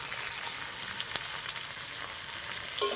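Hilsa curry ingredients with salt and turmeric sauté in a pan, giving a soft continuous sizzle with a couple of light utensil clicks and a brief louder burst at the end.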